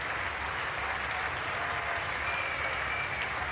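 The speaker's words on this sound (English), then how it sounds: "A very good ovation from the crowd for the young Indian batsman." A cricket test-match crowd in Australia applauds a young Indian batsman's unbeaten 148 at the close of India's innings, a steady, dense wash of clapping with no pauses.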